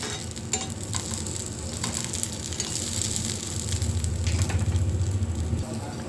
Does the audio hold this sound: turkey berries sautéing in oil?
yes